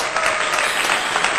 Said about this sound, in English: Guys, can we please just give her a round of applause?